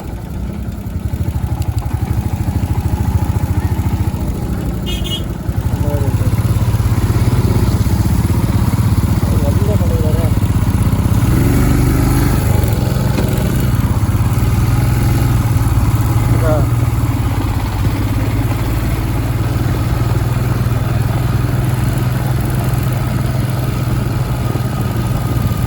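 A Royal Enfield Scram 411 motorcycle engine drones steadily in second gear while climbing a hill road to a hilltop temple, loud and close with a brief dip in level, and a rider talks over it.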